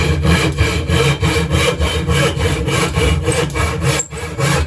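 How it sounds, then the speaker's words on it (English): A hand saw cuts through wood in steady, rhythmic back-and-forth strokes, loud and close, with no talking. "when the saw starts moving forward, we only have to do a few strokes"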